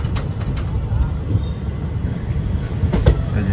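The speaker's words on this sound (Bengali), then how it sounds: "এই যে ছাড়লো নিউ ফারাক্কা" The Teesta Torsha Express pulls away from New Farakka station, its carriages rumbling steadily on the rails, heard from on board, with intermittent clicks and a brief squeal as the wheels cross joints.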